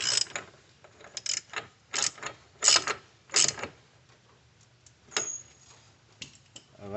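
Ratchet tightening a wheel hub on a 2005 Pontiac, a series of sharp close clicking bursts in uneven strokes with short pauses between them, no talking.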